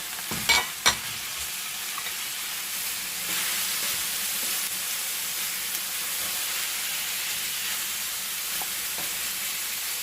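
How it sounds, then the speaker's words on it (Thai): Garlic, ginger and onion stir-frying in a pan with chicken, a steady close sizzle with a few sharp scraping knocks from the stirring at the start. "ตอนนี้เราก็จะผัดเนาะ"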